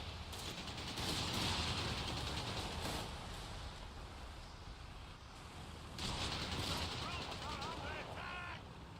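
Sustained gunfire and machine-gun bursts in the Company of Heroes video game, a dense, loud crackle of rapid shots throughout, swelling around the middle and again near the end, with game voice callouts mixed in.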